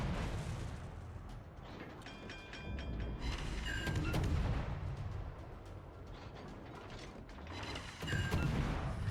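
Naval gunfire aimed at the battleship Yamato in a naval combat game: repeated sharp cannon shots and mechanical clanking over a steady low rumble, with rhythmic metallic ratcheting in between.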